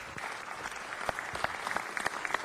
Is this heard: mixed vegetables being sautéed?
no